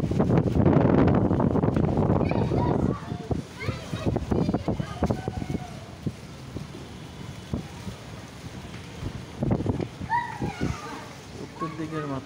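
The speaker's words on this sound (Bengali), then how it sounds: "উত্তর দিকের বাতাস" Strong north wind from a Kalbaishakhi storm over the city buffets the microphone with heavy roaring gusts at first, then calmer gusty rumbles, while people talk intermittently throughout.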